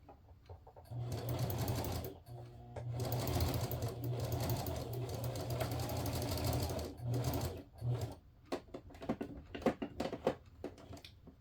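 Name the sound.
sewing machine stitching a rag quilt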